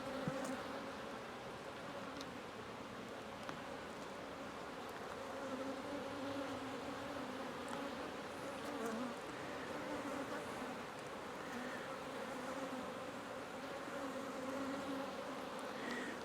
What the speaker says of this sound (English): Lots of bees down here.